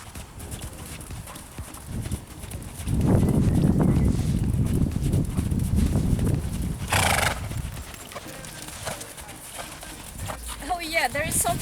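A horse's hooves clip-clop in a steady sitting trot, heard close under a rider's ongoing talk, with some breathing and tack noise mixed in.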